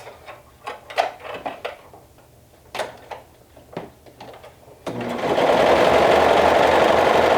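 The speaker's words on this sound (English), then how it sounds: "with your serger or your sewing machine and a stretch stitch, you will be attaching these two together with a 1/4 inch seam allowance." A serger or sewing machine stitching a 1/4 inch seam in stretch fabric with a stretch stitch, starting near five seconds as a loud, steady, continuous whirring hum after a stretch of scattered handling clicks and knocks.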